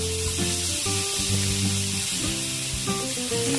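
Tomato and onion sautéing in a pan for pork binagoongan, a close, steady sizzle and crackle with stirring scrapes, no talk.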